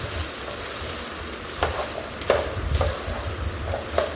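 Chopped okra (lady finger) fries in a pan with a soft steady sizzle, while a spatula scrapes and stirs in a few sharp, irregular strokes.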